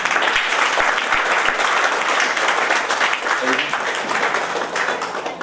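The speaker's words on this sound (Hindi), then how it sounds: "राजेश पटेल जी के लिए जोरदार तालियां" A crowd at a hall event gives loud, dense applause for trainer Rajesh Patel, a steady wash of clapping that lasts the whole stretch with a voice faintly audible over it.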